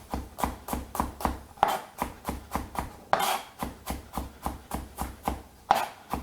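A knife chops food on a board in a quick, even rhythm of about three strikes per second, close and crisp, with a few harder knocks and no talking.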